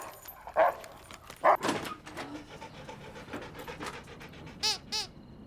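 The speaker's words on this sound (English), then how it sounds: "this is not my dog" A dog pants and huffs close by in uneven bursts, with a couple of louder sharp yelps or breaths and a high squeaky whine near the end.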